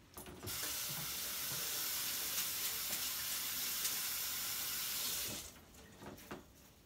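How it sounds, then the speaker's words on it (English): Tap water runs steadily from a kitchen faucet for handwashing, a broad close hiss lasting about five seconds before it shuts off, leaving a few faint splashes and clicks. "Wash my hands."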